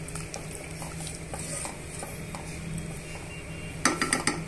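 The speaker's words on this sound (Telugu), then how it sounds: "యాడ్ చేసుకొని ఇవన్నీ బాగా మిక్స్ చేసుకొని" Washed basmati rice is stirred in a pot, the scraping of the spoon soft and intermittent, and a few sharper clinks of metal on metal sound near the end.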